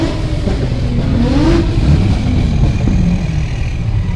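A big Ford Power Stroke diesel truck engine revs and rumbles amid steady traffic noise at a Nashville cars-and-coffee gathering, loud and continuous throughout with no talking.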